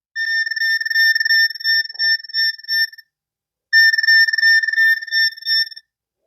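Electronic warbling beeps pulse rapidly in two bursts separated by a short silence, a bright Star Trek: The Next Generation toy tricorder scanner tone, loud and close.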